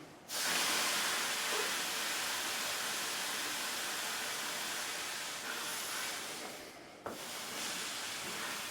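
An iron on full heat steams through a damp cloth laid over fabric, giving a steady, fairly loud hiss that runs almost continuously, with a brief dip and restart near the end.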